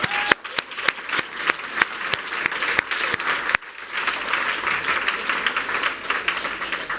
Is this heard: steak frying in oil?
no